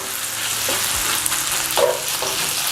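Butter browns in a pan for gnocchi with a continuous close sizzle and crackle, a few faint scraping touches breaking through the steady frying hiss.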